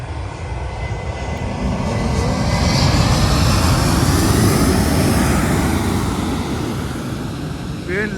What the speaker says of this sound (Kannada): ಏರೋಪ್ಲೇನ್ ಬಂತು ನೋಡಿ ಗೈಸ್.